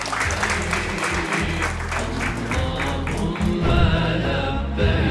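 Applause for a talent show audition contestant, a continuous dense clapping from a crowd that holds steady and swells slightly toward the end.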